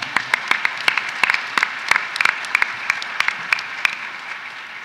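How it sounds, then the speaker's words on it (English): Audience applause at a university town hall, a steady wash of many hands clapping with sharp individual claps standing out, sustained and fairly close throughout. "Let's give it an applause for that, right?"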